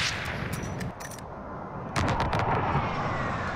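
An airstrike called in during a Call of Duty: Warzone match lands as loud, rapid bursts of explosive gunfire-like blasts, one cluster early and a heavier barrage after a short lull, with no talk over it.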